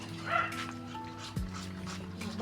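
A dog barks and yelps a few times at moderate distance on a farm with crops being fertilized, short sharp calls over a low steady background hum.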